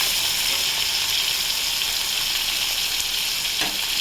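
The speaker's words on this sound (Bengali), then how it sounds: "ওপিট করে আমি শুধু ভেজে নিচ্ছি" Hilsa fish pieces frying in oil in a pan, a loud continuous crackling sizzle holding steady throughout, with a brief scrape of turning near the end; no one speaks.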